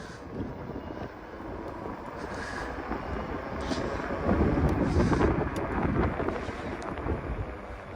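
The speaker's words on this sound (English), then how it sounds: "I'm gonna twist the throttle, and it is working properly." An e-bike ridden on the road with its throttle twisted, giving a steady broadband rush of motor and wind noise that swells slightly midway, with no talk.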